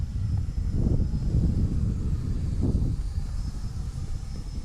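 An Arrows RC Marlin EDF model jet flies in gusty wind, its steady ducted-fan roar swelling and fading in two broad passes, mixed with wind rumble on the microphone and no voices.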